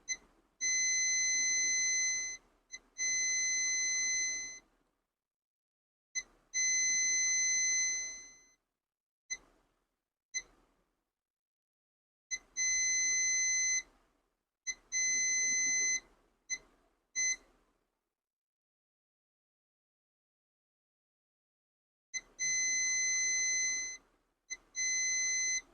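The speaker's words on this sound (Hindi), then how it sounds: "इस कैप पे शॉर्टिंग मिल रही है, दोनों साइड से जो है ना ये बीप दे रहा है" A multimeter's continuity tester beeps across a shorted capacitor on a dead mobile phone's board, giving a string of steady high tones lasting one to two seconds each, separated by short gaps and a few quick blips, with no talking.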